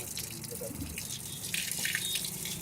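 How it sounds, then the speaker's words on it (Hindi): Water runs and splashes out of an Ashok Leyland H-Series six-cylinder truck engine where oil should drain, a steady close pouring hiss that grows slightly louder toward the end. "अरे भाई साहब, इंजन ऑयल की जगह पानी निकल रहा है।"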